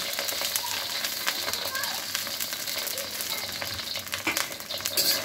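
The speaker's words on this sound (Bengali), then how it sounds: "1 চা চামচ জিরা, 4টা শুকনা মরিচ আর 2-3টা তেজপাতা ফোড়ন দিয়ে নিলাম" Cumin seeds, dried red chillies and bay leaves tempering in hot mustard oil give a loud, continuous close sizzle with occasional stirring scrapes. Faint voices sound in the background.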